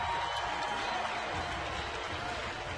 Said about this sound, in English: Nice cheer for Jason Hayward,